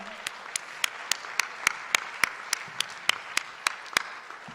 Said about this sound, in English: let's give one more round of applause to all of our performers tonight